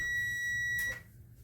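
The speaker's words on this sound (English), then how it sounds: "There's the timer." A waffle maker's timer gives a loud, steady electronic beep, close by, that holds for almost a second and then cuts off, leaving quiet kitchen background.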